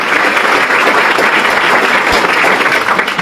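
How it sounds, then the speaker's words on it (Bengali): A crowd of young cadets and athletes bursts into loud, dense clapping for hardworking trainees, a continuous wash of applause close by that holds steady throughout. "এদের জন্য একবার তালি মারো যারা এত সুন্দর মেহনত করেছে"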